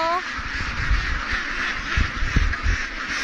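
Domestic ducks raised for eggs quack several times amid steady outdoor noise, with a person's voice briefly audible alongside them.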